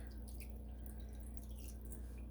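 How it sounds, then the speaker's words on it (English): Water trickles and drips gently onto snow piled for fabric dyeing, soft, scattered droplet sounds over a quiet low background, faint and close, with no talking. "Trying to just gently add some water to it."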